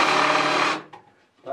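A big drill bit run backwards into wood to make a countersink gives a loud, steady grinding whir for under a second, then stops, followed by faint handling noises.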